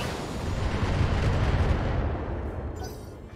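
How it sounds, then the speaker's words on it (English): Mech weapons in the BattleTech game fire at a target in a dense, continuous barrage of booming blasts and rumbling explosions, loud and sustained before tapering off at the end. "Firing on target."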